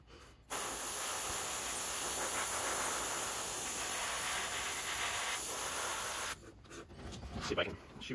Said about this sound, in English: I'm just hitting them with a little bit of airbrush